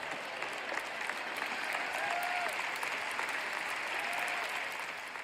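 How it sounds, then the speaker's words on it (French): Audience applause fills a sermon hall, a steady, even wash of many hands clapping at moderate distance that holds for about five seconds without a break. "Ça ne mérite pas des applaudissements, n'est-ce pas?"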